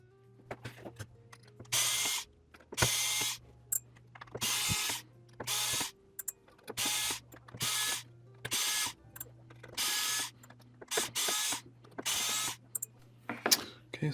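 Screws being driven out of a DJI Agras remote control board, a series of about ten bursts of whirring, ratcheting electric screwdriver noise spaced at regular intervals over a quiet bench hum.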